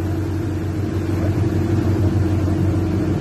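A fishing boat's engine running hard under acceleration, a loud, steady low rumble with a throbbing drone that holds throughout, close by and with no voices over it.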